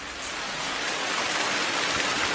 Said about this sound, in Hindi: ओहो, क्या ये बारिश भी?